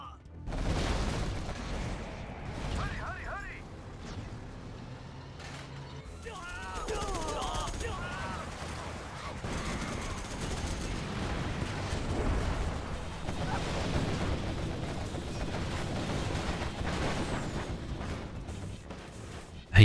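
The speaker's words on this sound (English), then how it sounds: "We've got artillery coming in." Artillery and gunfire rumble through a 3v3 Armoured Fury match of Generals Evolution: dense booms and machine-gun rattles layered with mechanical unit noise, fairly distant and continuous, with a voice talking over it.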